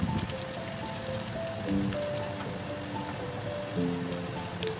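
Onions frying in hot oil with cardamom, cloves, cinnamon and cumin for an egg chicken pulao give a steady, close, rain-like sizzle that runs unbroken, with soft tonal sounds in the background.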